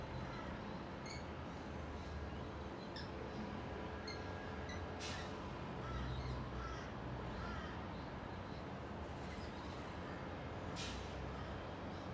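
Crows cawing repeatedly as they gather for bread near SeaWorld, over steady background traffic rumble, the calls fairly close and scattered across the scene.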